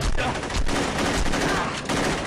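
Pistol fire in Saints Row 2 comes as loud, close shots in quick succession, packed densely across a brief stretch of game sound.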